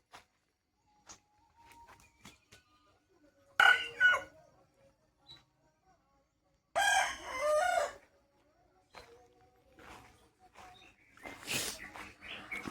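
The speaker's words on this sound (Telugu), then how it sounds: "మరో కోడి ఒకటే కుక్కురు కుక్కురు." A rooster on a farmhouse crows in loud, separated bursts, with a few clucks and faint thumps between calls.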